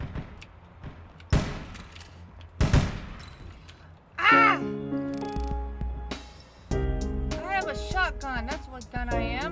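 Video game gunfire from APB Reloaded: a few loud, sharp shots and short bursts crack out in the first seconds, followed by quieter game sounds with a person talking over them.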